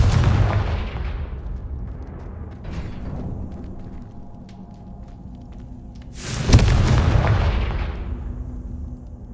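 A Confringo fire spell explodes in the Hogwarts Legacy video game, a loud booming blast that rumbles and decays, with a smaller thump partway through and a second heavy explosion near the end.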